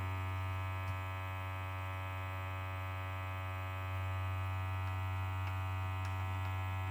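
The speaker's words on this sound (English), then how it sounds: "It's not sealed yet. It's just vacuuming." A vacuum pump evacuates a system that is not yet sealed, giving a steady low electric hum with a constant buzzing drone throughout, fairly faint and unbroken, no voices.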